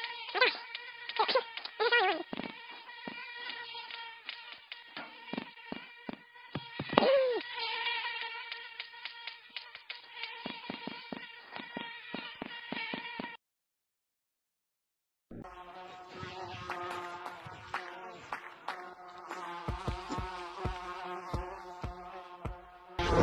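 Bees in a VR video game buzz in a steady, reedy drone with rapid pulsing clicks, pausing briefly midway before resuming louder and denser.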